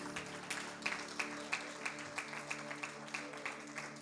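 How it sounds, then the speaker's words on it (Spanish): A church congregation gives rhythmic applause during a pastor's service, with fairly faint, regularly spaced claps in a steady beat over a sustained background tone. "Dele un aplauso al Señor, por favor."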